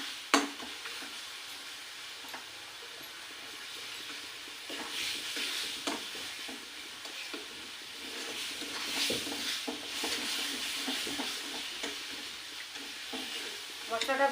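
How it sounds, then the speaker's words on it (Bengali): Spice masala for chicken curry sizzles steadily in a pan while a utensil repeatedly stirs and scrapes through it, the frying close and fairly quiet with no talking. "তো এখন মশলাটাকে একটু ভাজবো।"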